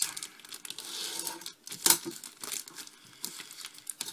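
Plastic wrapping crinkles and tears as parts of a Dragon Panzer IV D model kit are unpacked, producing close, irregular rustling bursts with a brief sharper rip midway.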